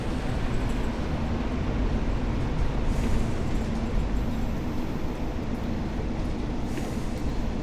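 A British Rail Provincial Class 142 Pacer diesel unit on the Ormskirk branch near Blackpool gives a steady, close rumble of engine and wheels on the track, holding a constant level throughout without a break.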